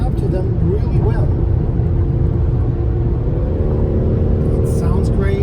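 A BMW X3 30e plug-in hybrid drives along, its steady engine and road rumble continuous and loud from inside the cabin, with a person talking over it.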